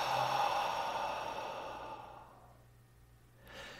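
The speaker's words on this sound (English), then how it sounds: "and breathing out." A single slow exhale during a breathing exercise: a soft, breathy rush of air that tapers away over about two seconds, followed by a brief faint breath near the end, close and quiet, with no speech.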